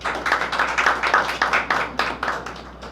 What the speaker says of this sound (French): Je vous demande de l'applaudir, mesdames et messieurs.